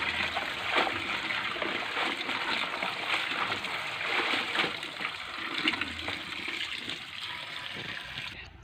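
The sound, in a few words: soaking and washing harvested leaves in water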